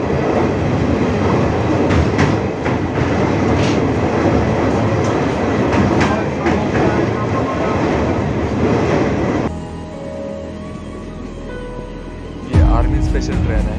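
Howrah–Ahmedabad Superfast Express (12834) rolling along with a steady loud rumble and clickety-clack of wheels for about nine seconds, then quieter interior running noise before a burst of louder rattling near the end; speech is faint in the background.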